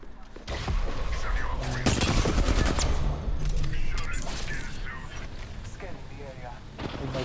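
Gunfire in Apex Legends, a flurry of rapid shots and booming impacts peaking early, then thinner scattered fire under ongoing talk.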